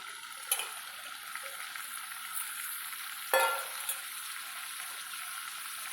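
Mutton curry ingredients frying in a pan, a soft steady sizzle with a couple of brief stirring scrapes, fairly faint and close.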